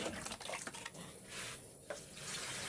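Water pours steadily from a container into a pot for heating at a rural hillside home that relies on collected rainwater; a continuous close splashing and trickling runs unbroken, with no talking.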